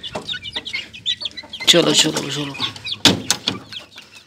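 Young chicks and a hen in a small backyard coop being handled and put back in a cage, giving loud, close peeping and clucking in bursts while a person talks briefly over them.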